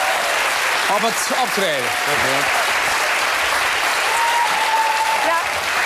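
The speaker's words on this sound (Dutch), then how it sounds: "Geef ze een groot applaus." A studio audience on a Dutch TV cooking and talk show applauds loudly and continuously, a dense wall of clapping while people speak over it.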